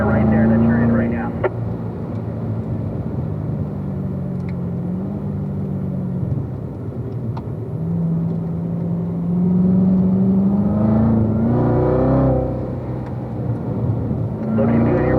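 A race car's engine on a track, the tone sweeping up and down as the driver rolls onto the throttle out of corners, a steady close drone running under an instructor's talk throughout.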